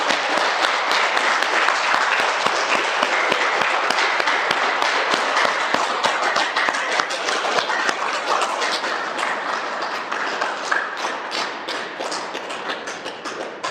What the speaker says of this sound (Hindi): तो एक बार आप सब ये तालियां।